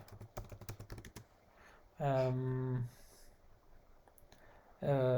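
Quick keystrokes of code being typed on a computer keyboard in RStudio, a short burst of clicks, followed by someone talking.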